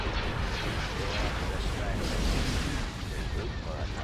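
Dense, continuous barrage of ship weapons fire and explosions from a Star Wars: Empire at War space battle above an ice planet, a loud rumbling wash of blasts with no pauses across the whole stretch.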